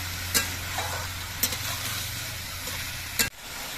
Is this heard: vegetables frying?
yes